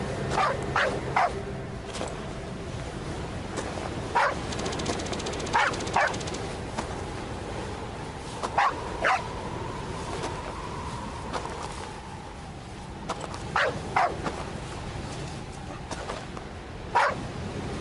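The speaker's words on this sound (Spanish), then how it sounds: "los ladridos de su perrita le advirtieron" A small female dog barks in short, scattered bursts of one or two yips, moderately close, over a steady low background hum with no talking.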